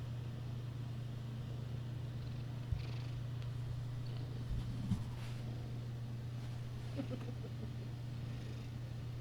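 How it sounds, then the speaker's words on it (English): A pet cat purrs close to the microphone, a soft steady rumble that runs the whole time, with a constant low hum and a few faint clicks and rustles. "I don't know if you guys can hear her purring"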